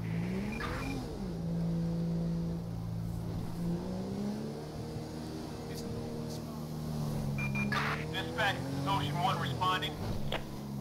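A motorcycle engine in Grand Theft Auto V drones and climbs in pitch as it speeds along, with game-style background noise and a brief high whine near the end.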